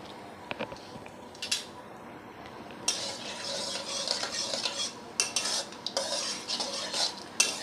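Dried red chillies, cinnamon and cloves sizzling in a pan, with soft crackling and scattered spoon scrapes and clinks against the metal, close and fairly quiet, with no talk.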